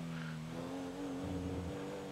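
Car engine droning steadily as it is driven fast in the video game GTA 5 roleplay, a sustained low engine tone at moderate level with no talking.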